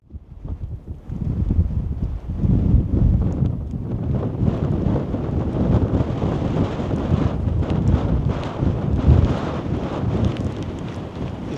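Strong wind buffeting the microphone on an exposed hilltop summit at Ingleborough in the Yorkshire Dales, a loud continuous roar with gusts rising and falling throughout.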